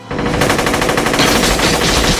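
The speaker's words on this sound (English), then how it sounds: "Wow, only an hour and 20 minutes in, and we finally have some gunfire." Heavy gunfire from a shootout scene in the film The Matrix, a loud, dense, continuous burst of rapid automatic shots with no talking.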